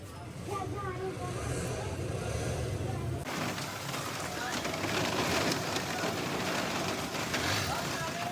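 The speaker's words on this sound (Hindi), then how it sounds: "ये देखें, बारिश भी शुरू हो गई।" Rain starts falling during an outdoor summer-holiday outing with children, turning abruptly into a steady, dense hiss that grows slightly heavier, while people talk faintly.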